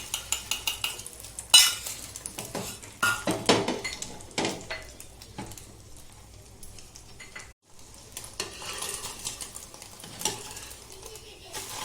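An omelette fries in oil in a pan, giving a steady sizzle broken by scraping and clinking of a utensil against the pan, close and moderately loud, with no talking.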